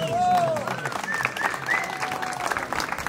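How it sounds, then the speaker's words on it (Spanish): Applause from guests at a quinceañera party, a steady wash of clapping from a crowd filling the whole moment, with some voices and whoops mixed in. "a ver, para todos ustedes ese aplauso."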